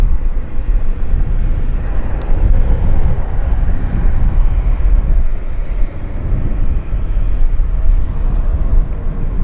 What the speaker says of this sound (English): Q400 taxiing out